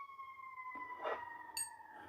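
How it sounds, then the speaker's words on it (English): An ambulance or fire truck siren passes at a distance, a faint steady wailing tone that shifts pitch partway through, heard alone without voices. "Just had to wait for the siren to end at some sort of a ambulance or fire truck go by."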